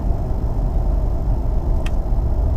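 A Ford Edge ST's engine droning low and steady from inside the cabin as the paddles shift, a constant mid-level hum with a brief faint click near the end and no talking.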